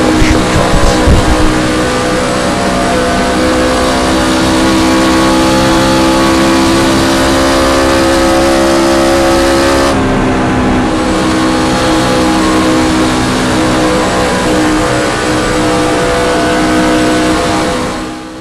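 A race truck's engine in a short-track racing video game roars steadily at high revs for the whole stretch, loud and close, with a brief throttle change midway and no talk over it.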